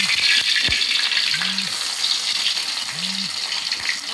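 Banana blossom fritters frying in hot oil, a steady loud sizzle and crackle filling the space, with faint brief voice sounds in the background.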